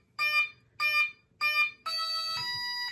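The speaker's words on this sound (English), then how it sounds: "Now it just initialized with the four beeps to let us know, hey, I'm ready to start flying." An RC airplane electronic speed controller sounds its initialization tones: three short, bright, evenly spaced electronic beeps followed by a longer sustained tone that shifts pitch partway through, clear and close with no talking.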